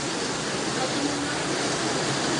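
Floodwater rushing through a Quezon City neighborhood during a super typhoon makes a steady, dense roar that fills the whole clip at an even level.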